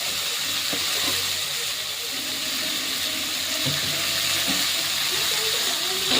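Prawns rubbed with salt and turmeric fry in hot oil in a kadai, giving a steady, fairly loud broadband hiss and sizzle with faint crackles throughout.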